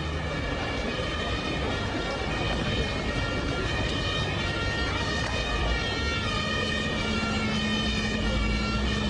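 A fire engine siren sounds during a call to rescue a bee swarm on a tramway cable, holding steady sustained tones over a constant roar of street and engine noise.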